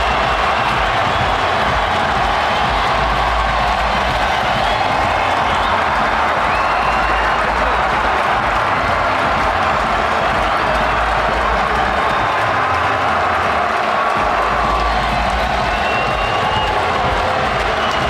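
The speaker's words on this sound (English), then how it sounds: "The crowd are going wild for Eddie." Football stadium crowd roaring for an Arsenal goal, a loud, sustained wall of cheering, clapping and shouting filling the whole stretch without letting up.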